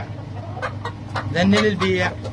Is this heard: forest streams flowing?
no